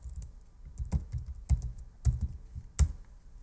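Login details are typed on a computer keyboard in quiet, close bursts of keystrokes, with a few sharper clacks standing out among softer taps and no voices.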